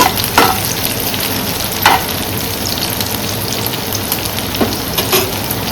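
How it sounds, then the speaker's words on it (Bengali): Onions fry in a pan until lightly reddened, giving a loud, steady, close sizzle throughout with occasional faint clinks and stirring scrapes on top. "হালকা একটু লালচে করে ভেজে নিচ্ছি।"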